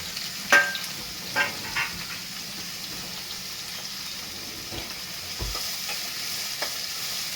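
Chopped onion, eight to ten green chillies, mustard seeds and cumin fry in oil in a pan with a steady close sizzle, broken by a few louder scraping stirs of a spatula, with no voices.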